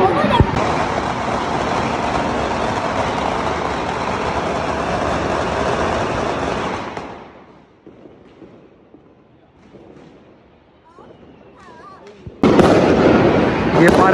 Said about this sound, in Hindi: ये सारे घर अब आके बाहर ना पटाखे लगा रहे हैं इस तरफ भी।